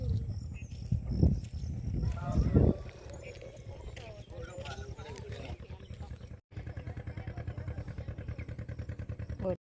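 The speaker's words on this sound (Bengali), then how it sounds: "নদী মাঝখান দিকে ভটভটি যাচ্ছে নৌকা।" A putt-putting motorboat crosses the middle of a river in the late afternoon. Its engine thumps in a steady, rapid rhythm through the latter half, after some earlier voices and clatter.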